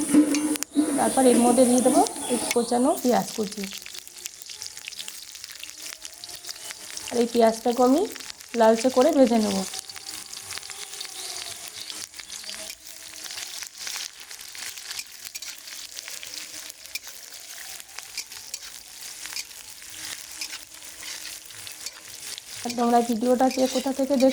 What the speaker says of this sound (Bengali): এর মধ্যে দিয়ে দেবো পরিমাণ মতো সরিষা তেল আর ফোড়নে দিয়ে দেবো গোটা গরম মশলা আর দুটো তেজপাতা দিয়ে আমি হালকা নেড়ে চেড়ে নেব